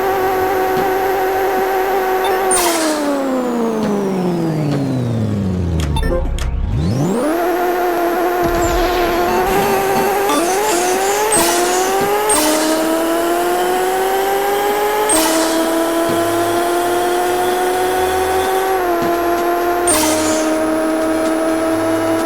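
Toyota Supra MK4 engine in the Car Pixel Racer video game, racing on a one-mile track: a steady synthetic engine tone climbing in pitch through repeated gear shifts, with a deep drop and re-rise midway, loud and continuous with no talk.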